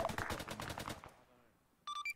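Bursts of rapid gunfire from an ARMA 3 military shooter battle, dense and loud at first, then fading out, followed by a few short electronic tones.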